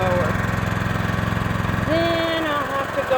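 A rototiller's small engine runs after being repaired, a close, steady mid-pitched chug with a rhythmic pulse, while someone talks over it partway through.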